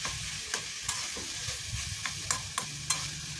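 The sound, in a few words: stirring cauliflower and potato filling in pan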